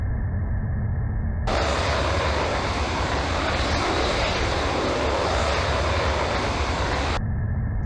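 F-16 jet engine in the Falcon 4 Allied Force flight game, a constant loud roaring rush that swells into a broader, brighter blast for several seconds and then drops back, with no speech.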